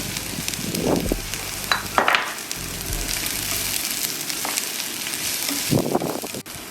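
Capsicum sizzling in a hot pan during seafood paella cooking, a steady close frying hiss with occasional louder crackles and stirring clatter, no talk.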